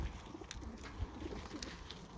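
Soft, low pigeon coos repeat faintly in a quiet space, a few gentle murmuring calls without talk.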